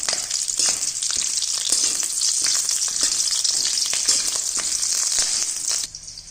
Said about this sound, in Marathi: मध्यम गॅसवरती लाल लालसर होईपर्यंत आपण याला फ्राय करून घेणार आहोत